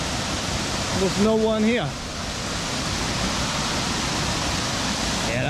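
Waterfalls at Samaipata, Bolivia, pour as a constant broad roar, with a person speaking briefly over the rushing water early on.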